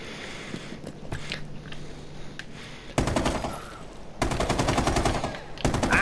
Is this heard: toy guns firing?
yes